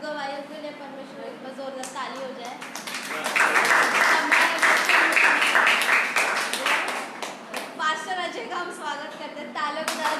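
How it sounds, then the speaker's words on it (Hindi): A church congregation at a worship service breaks into loud applause. Dense clapping swells for several seconds in the middle of the clip and then tapers off. Someone speaks over a microphone before and after the clapping. "सब गवाहियों के लिए परमेश्वर एक बार जोरदार ताली हो जाए"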